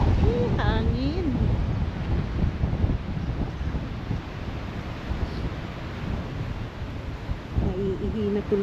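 Strong wind gusts roar steadily across a microphone outdoors in a cold park, loud and continuous, with a voice speaking briefly at the start and again near the end.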